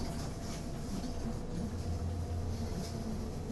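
A train rolls steadily on the Arosa Line in Train Simulator 2017, a continuous low rumbling of wheels and motors with a faint rhythmic clatter, fairly close and unbroken.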